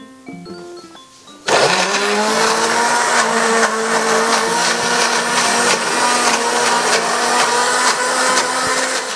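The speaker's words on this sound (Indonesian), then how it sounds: "Kita masukkan ke dalam blender." An electric blender starts abruptly and grinds shallots and garlic with a little oil, a loud, steady whirring roar that runs on for about eight seconds.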